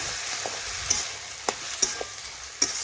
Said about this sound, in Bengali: এই দেখুন এইভাবে নাড়াচাড়া করে বেশ কিছুক্ষণ রান্না করে নিচ্ছি